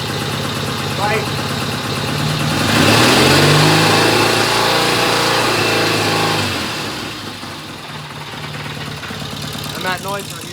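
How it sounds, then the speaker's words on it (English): A 1972 Norton Commando Combat motorcycle engine, loud and close, rises to a strong rev and settles back to a lumpy idle, with a metallic stator rattle running through it. "that noise we're hearing is just the rattling on the Stator"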